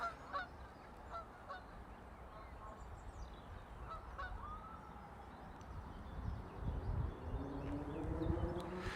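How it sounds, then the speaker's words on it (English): Geese honk repeatedly at a distance on Bathampton Meadows, a scattered chorus of calls over outdoor rumble that grows busier as the flock takes off. "Oh, the geese are just going off."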